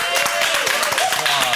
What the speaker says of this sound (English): What an applause we got.